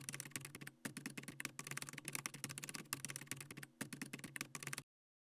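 Rapid computer-keyboard typing fills the stretch, dense clattering keystrokes with a few short pauses, close and fairly quiet, stopping abruptly near the end before silence.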